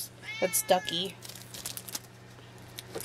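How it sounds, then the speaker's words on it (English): A house cat meows loudly several times in quick succession near the start, with a brief spoken line over it, then only light crinkling follows. "Our cat is meowing like super loud right now."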